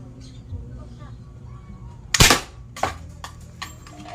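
A butane-powered bolt-action EMPI Marble toy gun fires once with a sharp, loud crack, followed by a few fainter mechanical clicks, while someone talks quietly in the background.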